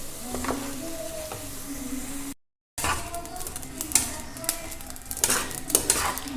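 Ingredients for homemade baby cereal frying in a pan, giving a low continuous sizzle with intermittent scraping, clinking stirs and utensil taps against the pan, close and moderately quiet, with a brief silent gap midway.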